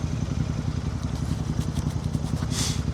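A Royal Enfield Shotgun 650 twin idles nearby through Scorpion exhaust pipes, a steady low, lumpy burble with rapid pulsing beats and a brief hiss near the end.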